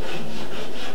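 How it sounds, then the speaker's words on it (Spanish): A wall being sanded by hand ahead of painting: a loud, continuous rasping scrape with steady back-and-forth strokes, close by and unbroken by talk. "si escuchan ruidos es porque están lijando la pared porque van a pintar"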